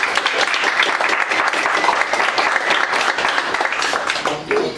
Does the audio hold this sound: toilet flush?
no